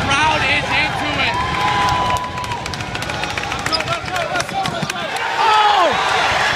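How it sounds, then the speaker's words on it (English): A basketball crowd cheers and shouts at a 2018 nationals MSU vs. VCU game, a dense steady roar with squeaking shoes and sharp bursts rising near the end. "The crowd is into it."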